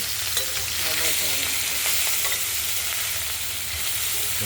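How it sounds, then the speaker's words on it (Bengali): Small mixed river fish, including mourola, chanda and chela, fry in hot oil with a loud, steady, crackling sizzle and a low background hum, and no voices. "কিছু কুচো মাছ আমরা টমেটোতে যেগুলো দেবো কিছু ভেজে নেব।"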